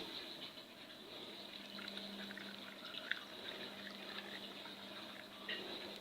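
Brine poured from above into jars packed with raw cucumbers being put up for fermenting, a soft, steady stream of liquid filling the glass right to the top, close and fairly quiet, with faint drips and no talking.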